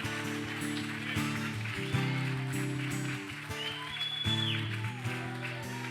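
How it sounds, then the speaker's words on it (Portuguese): A church congregation applauds, a steady wash of clapping running beneath loud worship music with sustained keyboard and bass chords throughout. "aplauda Ele, porque Ele merece"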